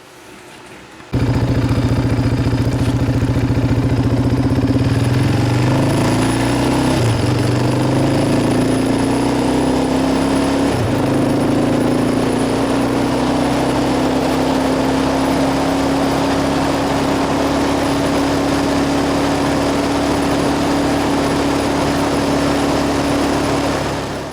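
A Yamaha Raptor 700R ATV engine idles in third gear with a loud, steady, close single-cylinder drone that holds at a constant pitch for the whole stretch after a brief quiet start.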